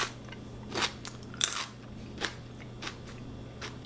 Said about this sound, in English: Super crunchy, as I'm sure you can hear.